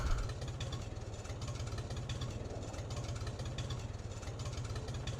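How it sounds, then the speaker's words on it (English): Tractor engine from the Farming Simulator 22 game, a steady mid-pitched idle-like drone with a rhythmic low throb, continuous and fairly loud throughout with no talk. "And I've got a quicker tractor, which helps."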